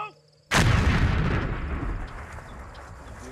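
After a countdown, an explosive charge goes off in a military training setting: a sudden loud boom that rolls out into a long, slowly fading rumble.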